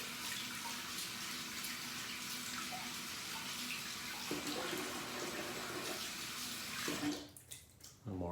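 Water splashing onto a face during a wet shave, a continuous near running-tap wash that breaks into a louder burst of splashing near the end.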